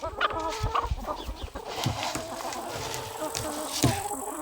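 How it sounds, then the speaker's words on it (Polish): Several hungry hens clucking nearby in short, irregular bursts over low farmyard background noise. "żarte są te kury"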